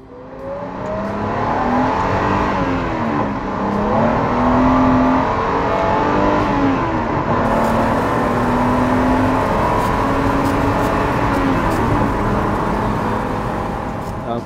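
Porsche race car engine pulling hard through the revs, a loud, close, sustained whirring drone with rising pitch sweeps as it accelerates and shifts.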